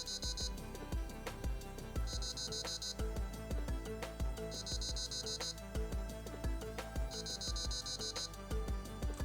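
Short bursts of high electronic beeps from an APC9K airsoft electric gun (Archwick) repeat at intervals, fairly quiet and set against louder background music with a steady beat.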